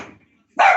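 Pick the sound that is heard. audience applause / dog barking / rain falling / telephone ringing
dog barking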